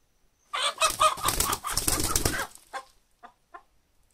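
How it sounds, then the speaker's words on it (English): A panicking chicken flapping its wings hard, a loud two-second burst of rapid wingbeats up close, followed by a few scattered short flaps and rustles before falling quiet, with no talking. "Chicken's freaking out, yo."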